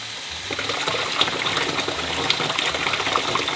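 Water pouring out of a budget rice washer gadget during manual draining, a strong steady close gush and splash running continuously.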